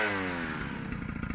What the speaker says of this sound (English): the addition sound will be starting the chainsaw